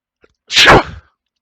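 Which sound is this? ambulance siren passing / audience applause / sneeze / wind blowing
sneeze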